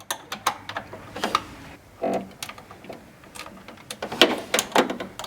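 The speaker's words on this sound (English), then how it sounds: "Snug the screws." Small screws being snugged down on the needle plate of a Brother PR series embroidery machine, heard as a run of short, close metallic clicks and scrapes in uneven bursts, with no talking.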